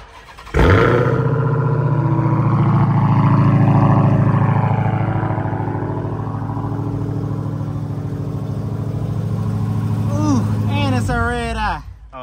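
A Porsche's engine cranks and catches, then settles into a loud, steady, throaty idle that holds for about ten seconds before cutting off, with talk over the end.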